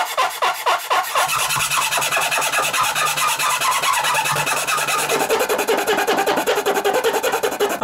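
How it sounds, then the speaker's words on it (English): A file rasps steadily against wood while cutting the F-holes of a handmade violin, with loud, close, rhythmic strokes that run continuously throughout. "after a lot of filing and cutting and sewing, the F-holes are finally done"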